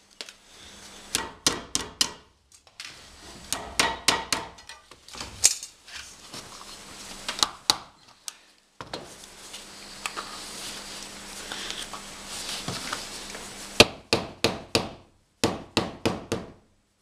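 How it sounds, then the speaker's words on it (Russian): A hammer beats tin sheet metal into a cone shape, giving sharp metallic clangs in quick clusters of several strikes, separated by short pauses and some softer handling noise. "придаем форму конуску, держим его и металл затягиваем"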